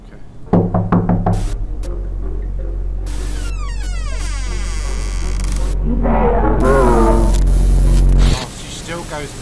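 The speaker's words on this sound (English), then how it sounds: "Knock on the door." A quick series of sharp knocks on a door in a video game, followed by a steady electrical hum and warbling, voice-like game sounds that swell before cutting off abruptly.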